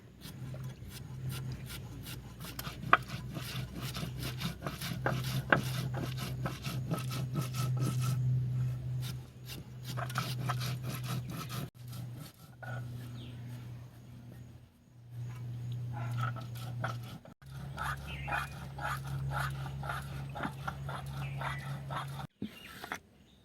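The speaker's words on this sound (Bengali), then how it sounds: "আলুগুলো ঝুড়ি ঝুড়ি করে কেটে নেব। যত ঝুড়ি ঝুড়ি হবে ততই ভালো হবে।" A knife slices potatoes into thin strips for an egg and potato curry, giving a steady run of close rasping cuts that pause briefly now and then.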